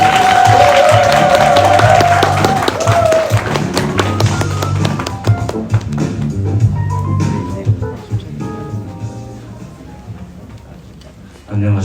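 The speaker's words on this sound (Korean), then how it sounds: "박수 부탁드립니다" Applause from an audience at a civic community talk concert in Cheonan, a dense burst of clapping that is loud at first and then thins out, with speech heard over it.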